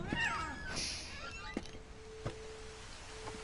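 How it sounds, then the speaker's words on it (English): A cat meows a few times in the video game What Remains of Edith Finch, short mewing calls spread over a few seconds against a quiet game ambience with a faint sustained tone. "I hear a cat."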